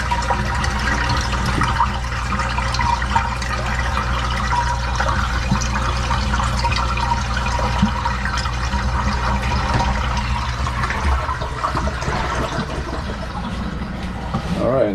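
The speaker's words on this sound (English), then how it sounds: "now the water's filling up to barrel number 2, to the top drain" Water pours steadily into a barrel of a homemade water filter, a continuous loud rushing and splashing fill that holds unchanged from start to finish.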